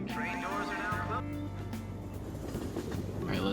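A train pulling out of a station in the video game Persona 5 Royal, a low rumble and steady mechanical hum under a station announcement voice, with chimes at the start.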